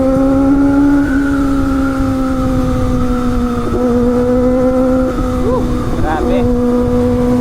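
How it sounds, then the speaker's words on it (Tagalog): A Kawasaki ZX-25R inline-four motorcycle engine holds a loud, high-pitched screaming rev close by, sustained steadily with small blips near the end, while a man briefly exclaims over it. "Ito talaga yung hindi mo matatawaran sa screaming inline 4 sound ng CX-25R."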